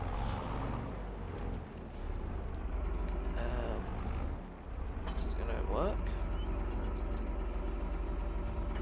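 A tractor engine in the farming game Farming Simulator 22 drones steadily throughout, a low continuous rumble with a brief dip midway, while someone talks over it.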